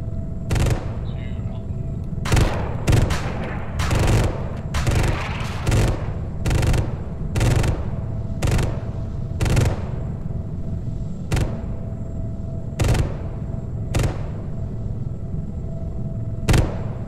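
An aircraft makes an attack run with guns and rockets in a video game, heavy booming bursts and thumps firing in uneven repeated volleys over a constant low engine drone, with voices talking in between.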